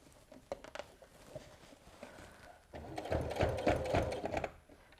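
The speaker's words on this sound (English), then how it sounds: "I'm going to give them another little sew." A sewing machine stitches apron strap connectors, starting with a few short bursts of stitching and then running in a louder, steady whirring rattle for about two seconds before stopping.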